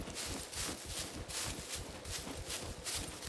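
A bear runs in the survival video game SCUM, its heavy footfalls thudding in a fast, steady gallop-like rhythm that stays fairly close and continuous with no voices over it.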